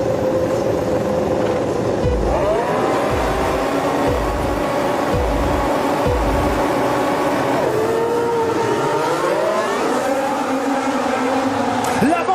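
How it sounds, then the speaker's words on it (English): Formula 1 race cars at a Grand Prix roar past in a continuous loud engine wash with rising and falling revs, under a commentator talking throughout. "Now onto the race, the most exciting part of the Formula 1 weekend."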